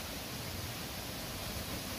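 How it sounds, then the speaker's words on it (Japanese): Kuroyama waterfall in Ogose, Saitama roars as a dense, steady wash of falling water that stays loud and unbroken the whole time, with no voices over it. "今見えているのが目滝という滝です"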